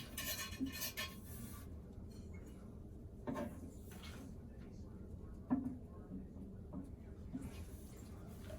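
A wrench clicks and clanks faintly against a Kohler toilet flush valve as it is tightened down, giving a few sparse metallic knocks over quiet background noise.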